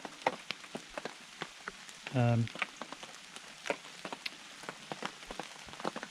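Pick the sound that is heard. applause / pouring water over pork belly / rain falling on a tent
rain falling on a tent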